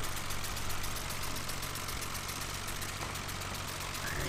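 An old Ford tractor pulling a John Deere sickle bar mower in Farming Simulator 2013 runs at a steady idle, with an even, continuous engine drone and a faint ticking pulse throughout.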